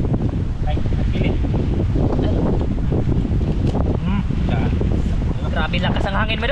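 Loud, continuous wind roars against the microphone outdoors, gusting unevenly while someone speaks now and then over the rushing noise.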